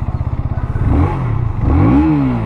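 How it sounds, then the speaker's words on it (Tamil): A 2025 KTM Duke 160 motorcycle idles with a pulsing thump from its exhaust, then revs up in two rising swells, loud and close. "வாங்க எக்ஸாஸ்ட் நோட் கேட்போம்"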